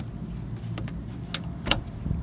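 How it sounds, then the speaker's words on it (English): Plastic retaining clips pop out of a Honda Civic bumper as a few sharp, separate snaps and clicks over a low steady background hum, up close. "removing these clips right here, and they just pop out like this"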